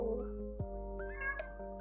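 A house cat meows a few times close by, soft tonal calls with a rising-falling pitch over a steady low background hum, no talking.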